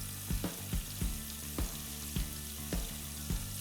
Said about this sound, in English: make sure you have enough palm oil in the pot so that all of the grains are finely coated